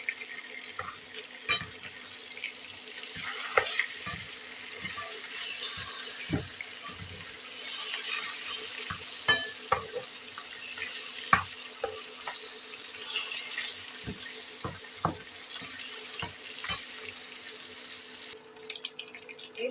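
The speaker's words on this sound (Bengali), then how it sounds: "ভেজে নেই।" Fish frying in a pan gives a steady, moderately quiet sizzle with scattered sharp pops and crackles throughout, and no talking.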